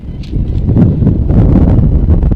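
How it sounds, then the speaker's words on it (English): Steady, loud wind buffeting the microphone at a softball field, with a low rumble, continuous throughout with no voices. "A little windy here today at the ballpark"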